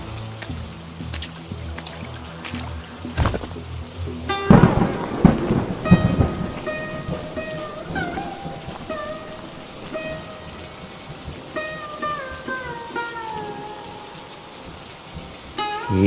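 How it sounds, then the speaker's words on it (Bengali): Steady rain pours on a rainy day, with sharp thunder cracks early on and a heavy rumbling surge around the middle, then a softer downpour continues under a faint musical tone. "বৃষ্টি হচ্ছে এমনি"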